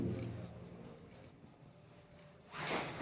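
Chalk or marker writing on a board during a Hindi-language chemistry lecture on naming compounds, short scratchy strokes under the teacher's voice, with a louder burst of scraping near the end.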